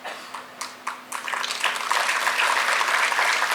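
Applause for Dr. Farooq at a TB-Free India felicitation ceremony at Raj Bhavan, Dehradun: a few scattered claps first, then a full crowd clapping that swells and holds, close and loud.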